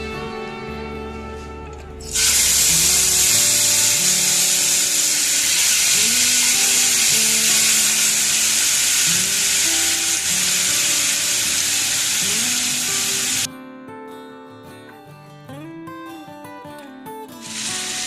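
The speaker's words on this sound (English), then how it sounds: "So now we will proceed to fry the paneer and the mushrooms." Paneer pieces and mushrooms sizzle loudly in a pan of hot oil, a steady, bright hiss that erupts suddenly and holds for about ten seconds before cutting back, with background music running throughout.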